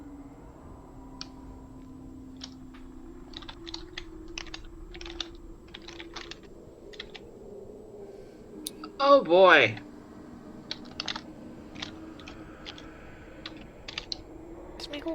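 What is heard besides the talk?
typing on a computer keyboard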